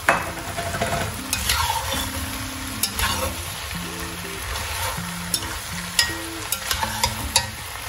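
Ginger sizzles steadily in a hot pan while a utensil stirs and scrapes it in quick, uneven strokes, close and fairly loud, with no voices.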